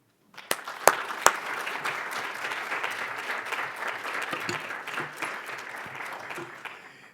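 Audience applause welcoming lecturer David Sim at an open lecture in Estonia, a few sharp early claps quickly building into sustained, dense clapping from a full room that holds steady, then fades out.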